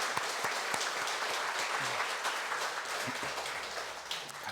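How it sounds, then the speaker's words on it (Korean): A church congregation at a Sunday worship service claps in a sustained, even round of applause to welcome a missionary, filling the room steadily from start to finish with no voices over it. "우리 박수로 좀 환영해 주시기 바랍니다."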